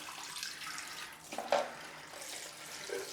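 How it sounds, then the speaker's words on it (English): Hot water running from a tap into a sink while preparing for a wet shave, a soft steady splashing wash with a brief louder splash midway, close by with no voices. "Fill it up with some hot water now."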